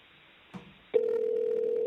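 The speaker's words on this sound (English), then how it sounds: "You better answer, Barnbaum" A telephone line opens with a click, then a loud, steady electronic tone holds unbroken to the end, close and alone with no voices.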